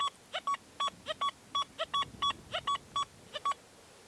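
An XP Deus II metal detector in pitch mode responding to a shallow target, a fast, irregular run of about a dozen sharp beeps that switch between pitches, close and clear.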